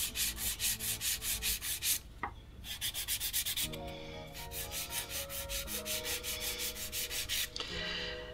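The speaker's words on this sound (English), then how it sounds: "Now we're going to do a filing routine. So side wall first." Nail file rubbing the side wall of a sculpted almond nail in quick, rhythmic strokes, soft and close, broken by a couple of short pauses.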